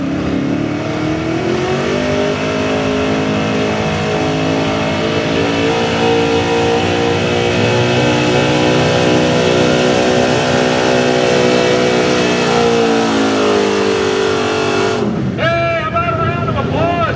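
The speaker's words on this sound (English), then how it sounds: "good running LS truck" A good-running gas LS engine truck at a truck and tractor pull revs loudly and steadily, rising and falling through its gears for a long sustained pull, then cuts off near the end as crowd noise and commentary take over.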